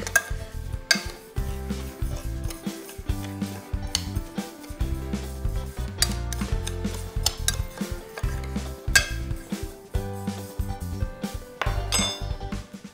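A spoon stirs a gravlax curing mixture in a bowl, with repeated clinks and scrapes against the bowl in a steady rhythm over low background hum.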